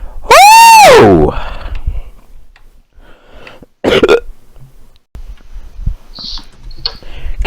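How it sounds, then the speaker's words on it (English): A short, small burp from a person with hiccups bursts out loudly near the start, followed by quieter scattered breaths, clicks and handling noises. "Oh, I just had a little bit of a burp there"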